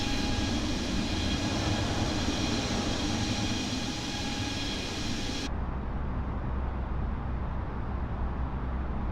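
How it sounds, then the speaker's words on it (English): Airbus A320neo jet in flight within Microsoft Flight Simulator, a steady engine drone and broadband rush that abruptly loses its higher hiss midway, leaving a lower, duller hum. "an Airbus A320neo flying in Laudamotion colours"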